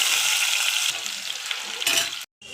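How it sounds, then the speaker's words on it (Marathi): Onion frying in oil in a pressure cooker gives a loud, steady sizzle up close that briefly cuts out near the end, then resumes. "आता कुकरमध्ये 2 वर्गळे तेल टाकून घेतल्यानंतर यामध्ये आपल्याला कांदा देखील"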